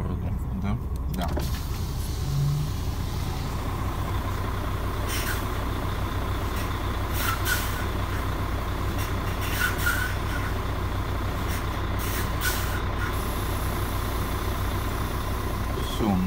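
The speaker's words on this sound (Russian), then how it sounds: "О, давай ленивца отпустим." An idling truck loaded with pipe releases air as its lift axle drops, giving short hissing bursts over a steady engine rumble, with people talking nearby.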